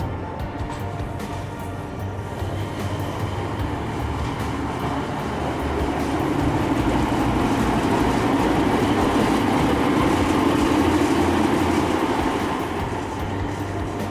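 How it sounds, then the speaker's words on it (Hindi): Darjeeling toy train standing at its station platform, a steady rumbling mechanical hum with a low drone that swells slightly midway, continuous and fairly close, with no talk over it. "ये है हमारा ट्रेन जो इस स्टेशन से चलने की कुछ समय पहले ही अपने प्लेटफॉर्म पर आ गई है"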